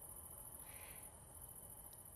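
Crickets chirping at night, a faint continuous high trill over a quiet, noisy background.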